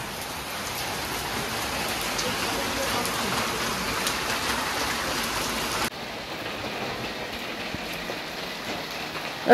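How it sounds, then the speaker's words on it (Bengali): Heavy winter rain pours down at night as a dense, steady hiss of drops striking surfaces, loud and unbroken, easing slightly in level partway through before continuing. "শীতের বৃষ্টি আমি এই প্রথম দেখলাম, কি জোরে বৃষ্টি নেমেছে।"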